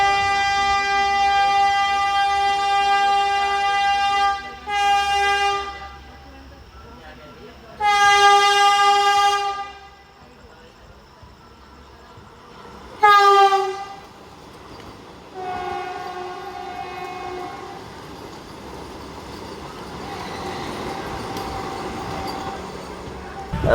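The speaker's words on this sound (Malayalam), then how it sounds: "അപ്പോൾ ഡൽഹി ഫിറോസ്പൂർ വന്ദേ ഭാരത് കണ്ട് ഇറങ്ങി വരുന്നത്" Delhi–Firozpur Vande Bharat express train approaching a platform, sounding several loud, sustained multi-tone horn blasts in separate bursts, with rolling rail noise and rumble building between and after the blasts.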